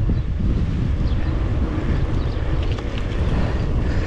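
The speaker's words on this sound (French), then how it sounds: "Vent par contre." Strong wind buffets the microphone on the Passage du Gois causeway at Noirmoutier during a mountain-bike ride, a continuous low roaring rumble that stays loud and close throughout.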